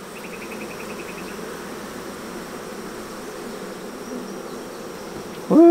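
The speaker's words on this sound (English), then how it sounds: "They're fanning their wings." Honeybees fan their wings at a homemade hive, making a dense, steady buzzing drone close by, with a brief louder sound at the very end.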